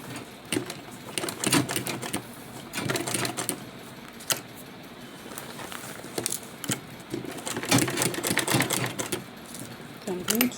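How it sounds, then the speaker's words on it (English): A sewing machine stitches a fabric tote bag in uneven bursts of rapid clattering, starting and stopping repeatedly, close by and mixed with a person talking. "So I'm going to stitch it now"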